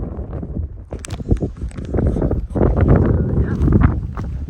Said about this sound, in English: It's a little breezy breezy right now.